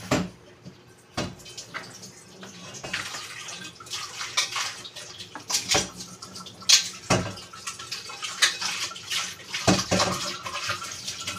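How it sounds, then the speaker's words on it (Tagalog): A cooking pot is washed under running tap water, with a steady splashing stream broken by clanks and scrubbing bursts, close up and fairly quiet throughout, with no talk. "Hugasan muna natin ito kaldero."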